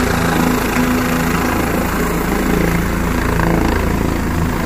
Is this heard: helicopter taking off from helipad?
yes